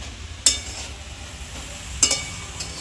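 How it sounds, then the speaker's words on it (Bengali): Grated carrots for gajar halwa frying in a pan over medium-low heat, with a soft steady sizzle and two or three sharp clinks of a utensil against the pan. "গ্যাসটাকে মিডিয়াম টু লো করে গাজরটাকে আমি ভালো করে ভেজে নেব।"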